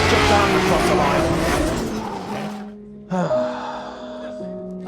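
A race car slides into a turn on a track, its engine roaring loudly and close with tire noise, then dropping to a lower, steadier drone partway through.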